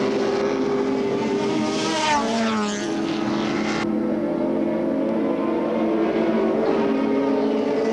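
A 5.7-litre Ford Falcon touring car roars down the straight at Oran Park in a 1984 touring car race. Its loud, continuous engine howl dips in pitch partway through, then drones steadily on.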